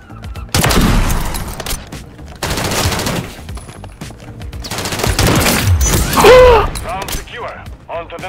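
Sniper rifle shots in a video game played with keyboard and mouse, landing as loud, sharp bursts with long reverberating tails, several in sequence separated by brief gaps, while a player's voice talks over them.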